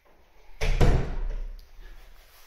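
A door in a house opens into a formal dining room with a couple of close wooden knocks and a thud, then a low rumble that fades as the door settles.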